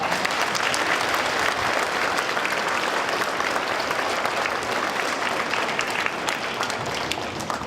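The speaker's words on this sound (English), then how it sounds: "You guys deserve a round of applause." A Veterans Day celebration audience claps in a thick, continuous wash of applause, even and sustained throughout without pause.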